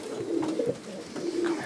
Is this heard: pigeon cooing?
yes